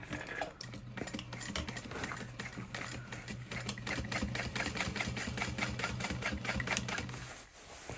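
A sewing machine top stitches through layered fabric with a fast, even run of mechanical clicks over a steady motor hum. It carries on for about seven seconds, then stops.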